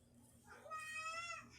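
A pet cat meows in one drawn-out, rising and falling cry lasting about a second, fairly close and clear over a quiet indoor background.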